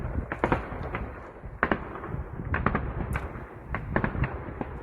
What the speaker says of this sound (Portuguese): Parece principalmente disparos de defesa antiaérea tentando atingir talvez um drone.